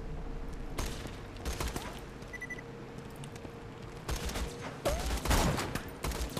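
Bursts of gunfire in the video game Borderlands 2 crack out in short clusters against a steady background hum, with a louder flurry of shots near the end.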